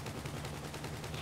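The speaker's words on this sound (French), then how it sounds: "je tire dans les pneus." Rapid automatic gunfire in a video game, aimed at the tyres of a car: a dense, continuous burst of close, loud shots with no pauses, and no talking over it.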